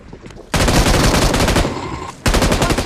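Gunfire in the mobile battle royale game BGMI, two loud bursts of rapid automatic fire, close and dense, with a brief drop between them.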